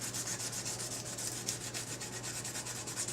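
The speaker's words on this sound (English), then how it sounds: "now I'm going to take it and give it a little scuff down one side also" A magnet bar gets a quick scuff along one side, a soft, continuous rubbing and sanding texture that stays close and fairly quiet throughout.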